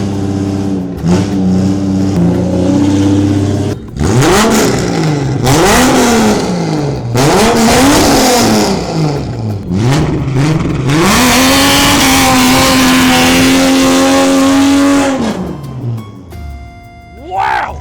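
Cold Ford car engine revving hard in an enclosed space with echo off nearby walls, rising and falling in repeated throttle blips before settling into a sustained high rev and dropping off, loud and close, with people talking over it.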